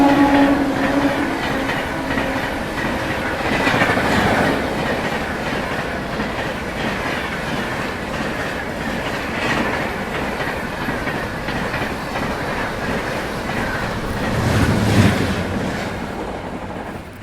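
Prayagraj Express rolling past on the rails, a loud continuous roar with rhythmic clickety-clack of wheels over joints, swelling near the start and again toward the end, close by.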